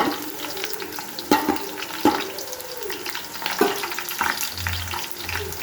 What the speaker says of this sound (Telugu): ఉల్లిగడ్డలు అయితే బ్రౌన్ కలర్ వచ్చినాయండి, వేగినాయి